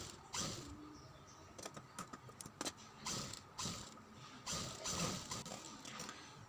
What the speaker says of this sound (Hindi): बुकरम के किनारे से सिलाई लगाते हुए हमें गले को अटैच कर लेना है